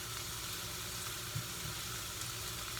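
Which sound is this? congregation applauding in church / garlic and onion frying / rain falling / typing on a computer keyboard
garlic and onion frying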